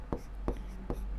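A pen scratches out a maths equation on paper in a few short, distinct strokes, close and fairly soft, with a faint background hum.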